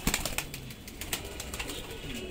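Punjabi pigeons flap their wings in quick, crisp bursts close by, with soft cooing underneath and a steady low background murmur.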